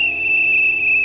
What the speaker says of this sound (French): Il faut donner un coup de sifflet, je vous assure.